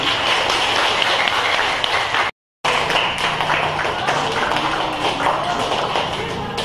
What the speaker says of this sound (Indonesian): Beri aplaus untuk kelompok 8.